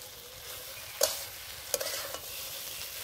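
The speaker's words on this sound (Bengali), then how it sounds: "বন্ধুরা সয়াবিনটা ভালো করে কষে নিয়েছি" Soybean curry with egg is stir-fried in a pan, giving a soft continuous sizzle broken by a few sharp scraping clicks of a spatula.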